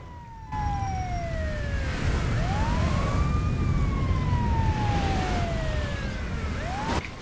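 An ambulance siren wails in GTA 5, a loud continuous sweeping tone rising and falling over heavy road rumble, with another siren layered in and a brief gap near the start.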